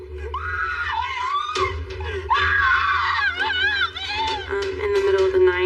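A woman screams outdoors at night in a dramatized reenactment, her loud wailing cries rising and falling in long, strained bursts over a low rumbling background.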